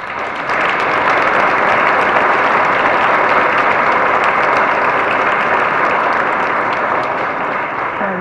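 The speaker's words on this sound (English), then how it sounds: "So give yourselves a round of applause." Sustained audience applause at a board of education meeting, a dense, steady wash of many hands clapping that holds loud and even throughout.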